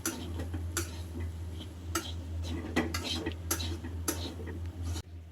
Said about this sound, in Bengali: বেসন দেওয়ার সময় একটু তাড়াতাড়ি করে নাড়তে হবে